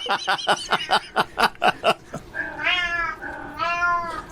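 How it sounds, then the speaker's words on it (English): A cat meows twice, drawn-out and nearby, following a run of rapid, rhythmic breathy sounds at the start. "Having a cat in the background is a lot easier."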